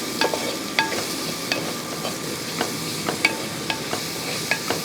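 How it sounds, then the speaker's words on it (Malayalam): Chopped onions sautéing in an oiled pan for a Kerala-style ridge gourd curry, stirred with a utensil that ticks against the metal in regular taps over a constant sizzle. "ഇനി ഇതെല്ലാം കൂടെ കൂട്ടി ഒന്ന് ഇളക്കി നല്ലപോലെ ഒന്ന് വഴറ്റിയെടുക്കണം."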